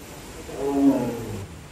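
A single deep tiger roar at Singapore Zoo swells up from quiet, peaks loudly in the middle, then trails off into a low rumble.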